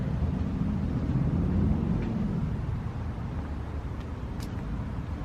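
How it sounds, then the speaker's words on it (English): A Polaris Predator 500 ATV engine, just back from a carburetor cleaning, runs with a steady, fairly loud low rumble that holds evenly throughout, with no voices. "Let's crank her up. Hear how she sound."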